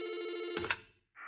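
A telephone on a private line rings once in a short electronic burst, then cuts off abruptly before a brief faint tone, close and fairly quiet.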